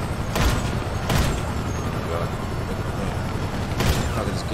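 Gunfire in the video game GTA Online comes as a few sharp bursts spread across a busy, noisy game soundscape, with loud shots near the start and again near the end.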